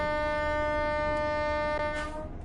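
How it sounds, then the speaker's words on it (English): Train horn in Train Sim World 4, a loud sustained chord blaring steadily over rumbling rail noise, tapering slightly at the end. "Oh, train!"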